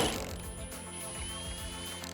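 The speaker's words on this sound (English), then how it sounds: "you're going to want to remove the outer hinge bolts." Steady mechanical ratcheting from a hand ratchet removing the outer hinge bolts on a 2021 Ford Bronco tailgate, continuous close clicking with a constant background hum.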